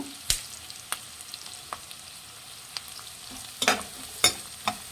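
Cumin seeds fry in oil with browned onions for hotel-style Guntur chicken, a low, quiet sizzle broken by a handful of distinct clicks and scrapes from a stirring spoon.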